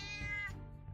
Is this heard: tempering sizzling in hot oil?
no